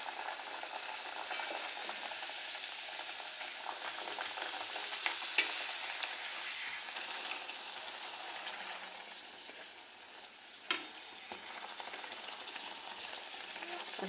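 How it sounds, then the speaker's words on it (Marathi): Dhapate, Maharashtrian flatbreads, fry in a pan over a low flame, giving a steady broadband sizzle for the whole stretch with a few brief clicks and scrapes. "असे थोडे गुलाबीसर तळून घ्यायचे."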